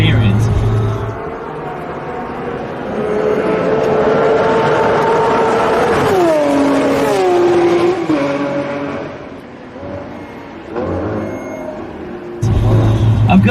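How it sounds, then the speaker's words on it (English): A Lamborghini Aventador SVJ with a naturally aspirated V12 on a race track, its engine note rising and falling as it revs and passes, loud and sustained with a sweeping pitch drop near the middle. "As you've heard, it truly sounds like a race car."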